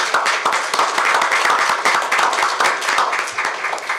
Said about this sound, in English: If we could give them all a round of applause for making this possible.